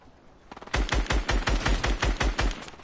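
Shooter video game gunfire comes as a rapid automatic burst of about a dozen evenly spaced, punchy, close shots after a quiet start.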